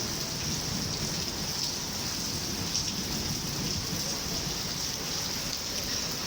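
Heavy rain with thunder in an office garden in Karachi, a loud, unbroken roar of downpour close by, with low thunder rumbling beneath it throughout.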